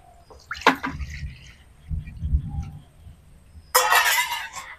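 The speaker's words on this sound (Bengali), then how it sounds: "তার জন্য কড়াই দিয়ে দিচ্ছি পানি" Water splashes into a wok being readied for steaming a rice flour coconut cake, a short pour near the start, some low clanks, then a louder burst of pouring at the end.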